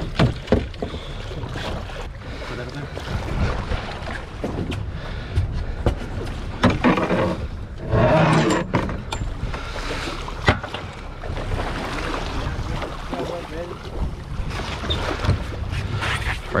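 Boat motor running steadily in gear out on open water, a low continuous drone mixed with wind buffeting and splashing, fairly loud and close.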